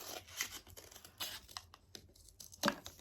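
Scissors snip through a cardboard toilet paper roll, cutting it in half for a no-knit hat craft; a few short close cuts and rustling crinkles, fairly quiet, with no talking.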